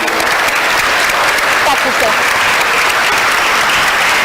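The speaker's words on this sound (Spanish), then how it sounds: "un aplauso para nuestras vecinas y nuestros vecinos." Applause for neighbours at a public forum on public services, steady dense clapping from a crowd throughout, loud and close with no break.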